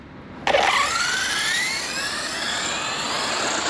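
Electric motor of an MCD XR5 model aircraft abruptly spinning up to a loud, steady high-pitched whine that holds evenly, close by, with no talk.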